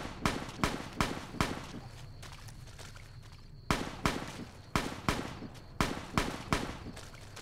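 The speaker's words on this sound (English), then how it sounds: "Gunshots in the distance." Distant gunfire in the Fallout: New Vegas game world, where the Honest Hearts DLC is being played, rings out as faint sharp shots in uneven bursts of three or four, separated by short quiet gaps.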